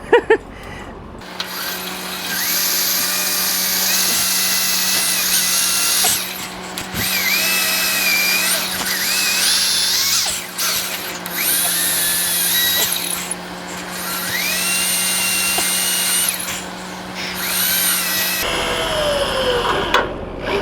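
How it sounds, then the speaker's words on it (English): An electric drill whines steadily at close range, its pitch dipping and rising as the bit drills out rivets in a rusty VW Beetle's metal, with brief pauses, no talking. "Just got to drill these out."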